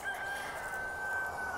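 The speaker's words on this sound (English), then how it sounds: "Hey, Rooster" A rooster crows in a single loud, sustained call, heard close and alone without any talk.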